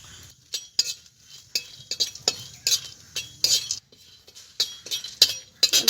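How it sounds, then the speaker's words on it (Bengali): Whole dry red chillies, cinnamon, cardamom and cloves rattle in a hot dry kadai while being stirred, giving a run of close, sharp metallic clinks and scrapes in an irregular rhythm. "এখন আমি কিছু গোটা মশলা শুকনো খোলায় টেনে নেব"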